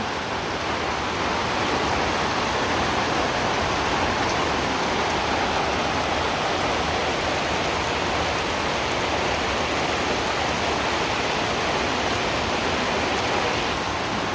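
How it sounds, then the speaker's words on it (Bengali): Heavy rain pours down in a dense, steady roar with no pauses, filling the whole scene, with wind. "যেই সেই বৃষ্টি"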